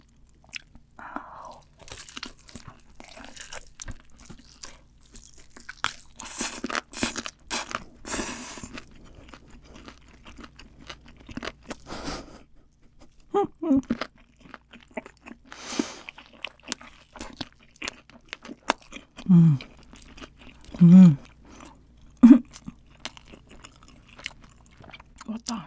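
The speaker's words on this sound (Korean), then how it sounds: "이번에는 치킨을 치즈 안 찍고 그냥 한번 먹어볼게요." Spicy fried chicken eaten plain without cheese fondue, close-up crunching and wet chewing in irregular bursts, quieter in the middle and growing louder with heavier bites toward the end, with no talking.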